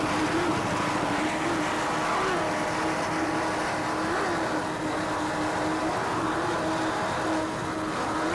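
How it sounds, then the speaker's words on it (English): Offshore powerboats race neck and neck through rough seas, their engines a loud, steady roar that holds without a break. "These boats are virtually running neck and neck right now."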